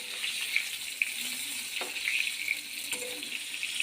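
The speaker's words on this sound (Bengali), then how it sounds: "এইভাবে উল্টে পাল্টে পটলগুলোকে ভেজে নেব।" Pointed gourd (potol) pieces frying in oil in a home kitchen pan, a steady soft sizzle with faint crackles and a few light clinks of turning, continuous and close with no talk.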